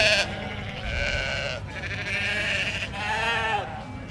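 Sheep bleating in a pen at an agricultural show, a few drawn-out wavering bleats close by over a steady murmur of crowd background.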